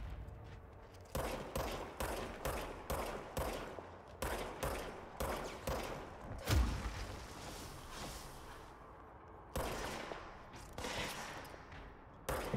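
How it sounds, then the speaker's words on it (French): Gunfire in the video game Control comes in rapid repeated bursts of sharp shots, a regular rhythm of loud volleys with brief pauses, then a longer stretch of fire toward the end. "Il tire maintenant."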